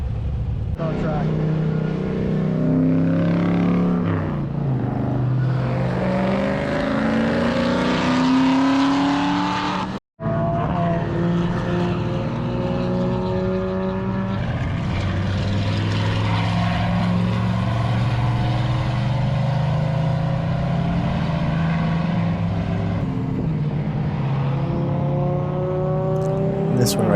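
Cars lap a race track during a hot rod tour event. Their engines rev and roar continuously, rising and falling in pitch as they accelerate and pass, loud and fairly close throughout.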